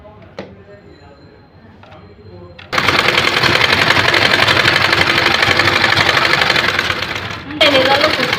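Sewing machine stitching a women's vest, a loud steady mechanical whirr running for several seconds after a quieter stretch, briefly stopping then restarting, with a voice heard near the end.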